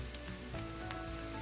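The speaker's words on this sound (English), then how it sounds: "stir it on low flame. You want it to fry nicely." Garlic paste with turmeric, cumin, pepper and coriander powders fries on low flame in a pan, a steady close sizzle with a faint scrape of stirring.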